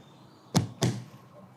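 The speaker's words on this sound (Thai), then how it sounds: "ต้องต้องเคาะกระจก ถึงจะติดนะครับ" Two sharp knocks on car window glass sound about a quarter second apart, close and crisp, against a quiet background.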